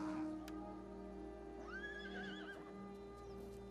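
Horses whinny in an Attila: Total War battle, one clear rising neigh in the middle over a constant droning battlefield hum, with faint hoof clatter.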